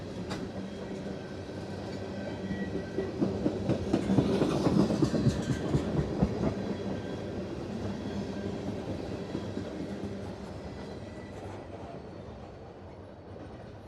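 A train rolls past on the rails at Mortons Junction in Mortons Gap, Kentucky, taking the cutoff, a steady rumble with rhythmic clacking that swells to a peak and then slowly fades away.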